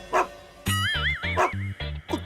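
A dog yips and barks in short repeated bursts, with a whimpering, whining tone, close and fairly loud, in a domestic scene from an Indian TV drama.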